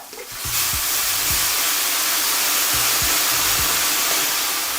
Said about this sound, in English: And now we can deglaze with some of the vinegar.